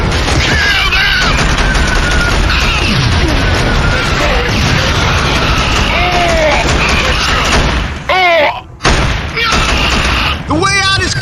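Dense gunfire from a Killzone battle scene crackles continuously with crashes and bursts, heavy and close, while shouted voices cut through the din.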